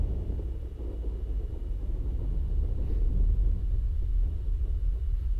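Thunder in a flight simulator game's stormy weather: a steady, low rolling rumble that swells slightly midway, distant and without sharp cracks.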